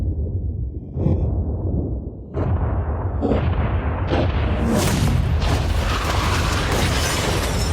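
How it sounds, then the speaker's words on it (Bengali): Blast destroying a yacht at a countdown stunt, heard as a string of sharp booms and bangs building into a loud, sustained roaring rumble of debris and fire. "3 2 1 উড়িয়ে দাও।"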